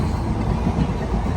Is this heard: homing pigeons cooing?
no